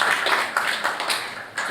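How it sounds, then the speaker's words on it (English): Audience clapping at an expo talk, a short burst of fairly close, uneven hand claps from a modest crowd, with no speech over it. "Give you a round of applause."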